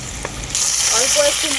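Kakrol (spiny gourd) frying in a spiced masala in a pan, a loud close sizzle that jumps up midway as more masala goes in, with bubbling crackle continuing throughout.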